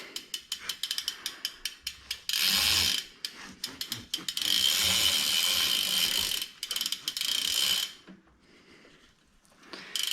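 A bicycle drivetrain being turned by hand to work grease through the chain and its small wheels during a tune-up, giving a steady close ratcheting, clicking whir with a few brief stops and starts and no talking.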